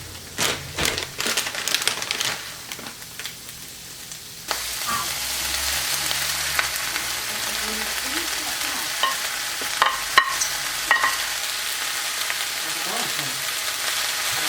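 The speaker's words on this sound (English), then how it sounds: "You swirl in some oil like so. Yeah, so we're gonna add in the garlic and onions." Garlic and onions dropped into hot swirled oil in a pan, starting with a few clanks and scrapes and then breaking into a steady loud sizzle with bursts of crackling and stirring, nearby, with no talk.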